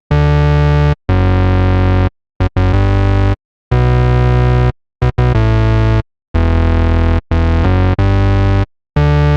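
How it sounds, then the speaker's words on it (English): Buzzy, bright synthesizer notes with a hollow square-wave edge at an 8-foot octave play in short bursts, starting and stopping in an uneven melodic pattern. "This time I selected the square wave and I kept the octave at 8"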